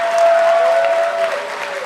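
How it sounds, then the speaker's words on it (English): Dense, continuous applause from an audience at a PAX Prime 2013 esports event fills the short stretch, loud and close with a steady crowd clatter throughout. "they've been clapping all along"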